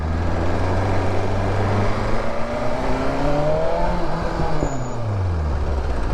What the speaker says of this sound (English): you can hear the pops now even more as it's getting warmer and warmer